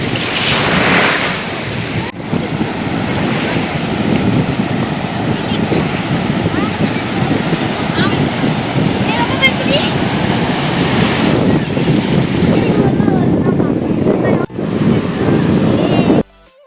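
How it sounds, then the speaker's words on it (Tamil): Waves roll and break at Kovalam beach while wind buffets the microphone, a loud, steady surf roar that continues throughout, with faint voices under it. "பீச்சோட அந்த அலை சவுண்டும் அந்த காற்று சவுண்டும் எவ்வளோ நல்லா இருக்குல்ல"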